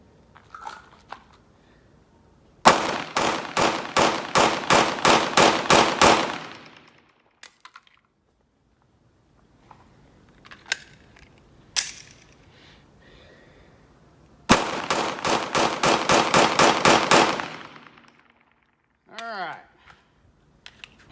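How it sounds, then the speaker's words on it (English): A Glock 17 pistol fires two quick strings of roughly a dozen loud, sharp shots each, separated by a quiet pause with faint handling noises. "I'm gonna shoot the 17 for 2 mags, just kind of get a feel for it."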